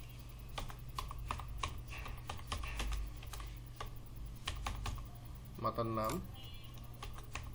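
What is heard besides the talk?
typing on a computer keyboard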